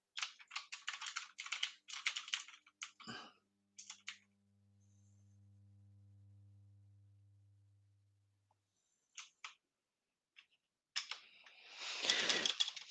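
Computer keyboard keys pressed in quick clattering bursts, pausing for several seconds while a low hum rises and fades, then resuming in a dense flurry of taps near the microphone.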